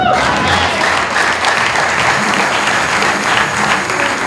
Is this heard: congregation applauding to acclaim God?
yes